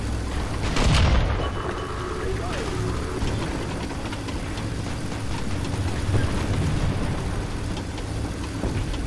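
A tank cannon in War Thunder ground battles gives one heavy, close boom near the start, followed by a rumbling idling engine and low mechanical noise.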